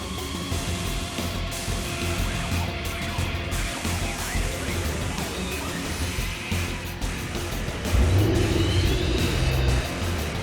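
A film car engine rumbles steadily in a Route 66 exhibition hall, swelling into a louder rev toward the end, over a busy background din with no clear speech.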